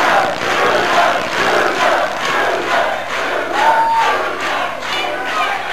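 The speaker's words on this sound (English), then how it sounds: "Listen to that crowd roar." Arena crowd at a 1982 wrestling match with Ric Flair and Dick The Bruiser roars and chants in loud, rhythmic surging waves, a dense wall of voices filling the hall.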